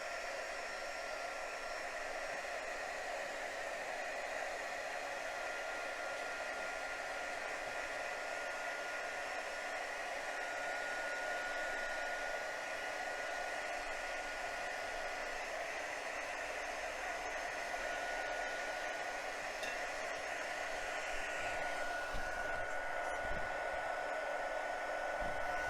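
A hair dryer blows steadily on a drying watercolor painting, a constant loud whooshing hiss that barely changes across the whole stretch, with a slight shift near the end.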